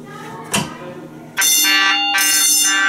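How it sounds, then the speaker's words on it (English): A pull-station fire alarm is yanked with a sharp click, then a loud electronic alarm bell rings nearby, continuous and piercing with a short break before it resumes. "Pull the fire alarm."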